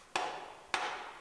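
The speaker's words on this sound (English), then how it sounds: "we can hammer all the buckles out of that piece after we straightened it" Two heavy hammer blows strike a straightened steel piece from a Cronkhite tilt bed equipment trailer, knocking buckles out of it. Each blow is a sharp, loud impact that rings on briefly, and the two strikes are about half a second apart.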